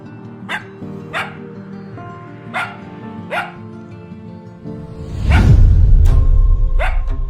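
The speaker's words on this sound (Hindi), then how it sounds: "ये कुत्ते के भौंकने की आवाज कहां से आई इतनी रात को?" A dog barks at night, about half a dozen sharp, evenly spaced barks close by, with a loud rushing whoosh cutting in partway through.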